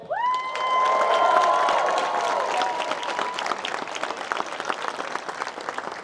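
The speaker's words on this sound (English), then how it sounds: "Everybody give a huge round of applause, everybody, for Micah." A crowd at a celebration of life for Adam the Woo claps and cheers for speaker Micah, loud sustained applause with a few high whoops early on that settles into steady clapping.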